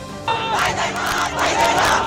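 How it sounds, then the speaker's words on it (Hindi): Protest crowds in the streets of Nepal, a dense roar of many voices shouting and chanting together, loud and sustained, rising in waves. "हर शहर में भीड़ उतर आई।"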